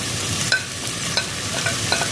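Tomatoes and crushed shallots sauté in a pan for chicken rice, giving a steady close sizzle broken by a few light spoon clicks, with no talking.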